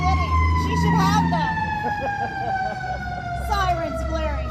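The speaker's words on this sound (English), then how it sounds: "Sirens blaring for her." Loud sirens wail and sweep up and down, with a voice speaking over them.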